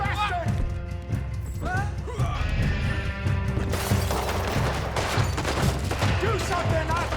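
Gunfire in Red Dead Redemption 2 crackles in a steady, chaotic fusillade of shots and impacts, with voices talking and shouting throughout over a busy background.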